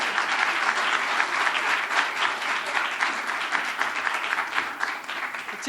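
A crowd at a YMCA event for Governor Cuomo's minimum wage and paid family leave announcement gives steady, dense applause that continues for several seconds with no break.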